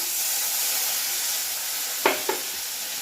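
A small splash of water hitting a hot pan of elephant foot yam and prawns, a broad steady hiss with two quick scraping stirs near the end.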